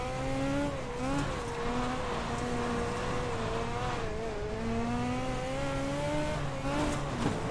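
A Dirt Legend race car in iRacing laps the huge Millbridge dirt track, its engine droning steadily with clear harmonic pitch rising and dipping through gear and throttle changes, loud and continuous throughout.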